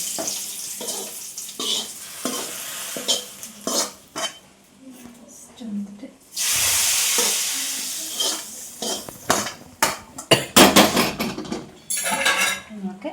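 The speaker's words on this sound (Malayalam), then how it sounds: "ഞാൻ മീനൊക്കെ ഒന്ന് വറക്കട്ടെ കേട്ടോ" Fish fries in a pan in a home kitchen: a steady sizzle swells partway through, with frequent clinks and scrapes of utensils and pans being stirred and handled, loud and close.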